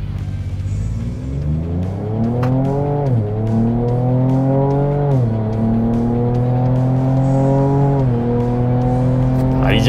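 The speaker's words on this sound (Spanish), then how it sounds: "Pongo en drive, verifico que esté en modo sport y vamos a fondo." Ford Ranger Raptor V6 pickup at full throttle in sport mode, a loud close engine note climbing steadily in pitch through three gear changes, each marked by a brief drop before it climbs again.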